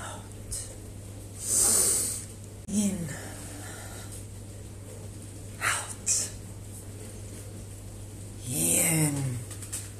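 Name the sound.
deep breathing in and out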